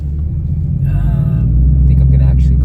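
Mercedes SLS AMG engine rumbling steadily while driving, a deep constant drone with a brief rise in pitch partway through, heard from inside the car.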